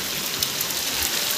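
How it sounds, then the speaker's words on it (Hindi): Steady rain pours down, a dense continuous hiss with scattered droplet patter, loud and close throughout. "ये देखें जी इधर बारिश हो रही है"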